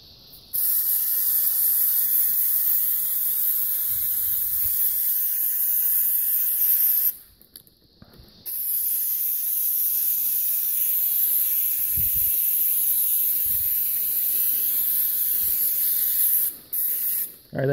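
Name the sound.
spraying brake cleaner on a car transmission line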